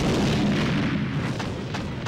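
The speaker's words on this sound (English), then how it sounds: "That second explosion there was the chest actually appearing. It appears within an explosion for some reason." A loud, dense explosion in the video game Steambot Chronicles, where a treasure chest appears amid a burst: a sustained low rumbling boom with scattered crackling pops, filling the whole moment with no talk.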